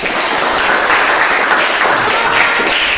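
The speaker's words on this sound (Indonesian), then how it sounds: "Sekarang tepuk tangan dulu untuk kelompok 1." A classroom of students claps together after a group presentation, a brief, loud, dense burst of applause that is steady throughout and has no voices over it.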